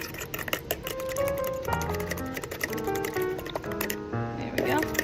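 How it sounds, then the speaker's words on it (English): Egg mixed with a fork in a bowl: quick, close, uneven clicking and tapping of the fork against the bowl, heard beneath a talking voice. "The instructions say mix with a fork."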